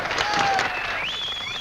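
A crowd claps and cheers steadily, with a dense wash of applause and a few whistles rising over it.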